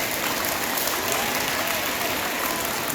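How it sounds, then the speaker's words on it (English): An audience of junior high students claps throughout, a dense steady wash of applause with faint crowd murmur and no speech. "Go ahead and clap if you love that kind of stuff."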